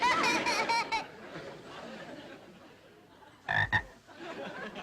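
A frog croaks in a few quick bursts at the start, then again in a short double croak near the end, fairly close and loud against a quiet background.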